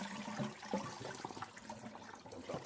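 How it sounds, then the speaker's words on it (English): Water sloshes and splashes steadily as cloudy rice rinse water is poured out of a container, a continuous running-water sound with small irregular gurgles. "Dump out the water, do it again."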